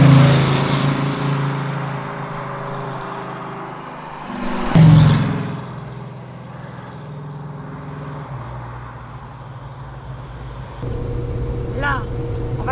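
A Chevrolet Camaro SS being driven, its engine a steady low drone inside the cabin, swelling briefly in a surge midway, then settling into a firmer hum as the car exits a bend.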